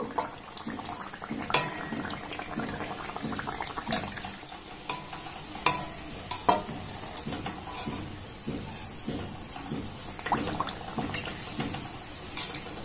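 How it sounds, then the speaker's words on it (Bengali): Poa pitha (malpua) sweetened with date-palm jaggery frying in hot oil, a steady soft sizzle with occasional sharper clinks and stirring clatter from the pan, close and alone without talk. "তো আমি একটু বেশি লাল লাল করে ভেজে নেব"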